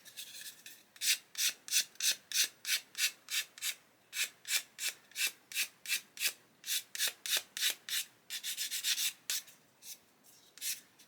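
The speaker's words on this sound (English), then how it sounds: "You can see we've got some sprue nib remaining there, look, so we can just sand that away" Sanding rasps across a sprue nib on a plastic Airfix 1/72 Hurricane Mk.1 model kit in a steady run of about two dozen even back-and-forth strokes, close and crisp, with no voices.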